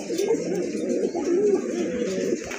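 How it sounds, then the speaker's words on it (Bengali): A pair of black check racing pigeons, also called maxi racers, coo close by in a pigeon market, giving soft, rolling, repeated coos that stay fairly steady throughout. "আরেক জোড়া রেসার কবুতর,"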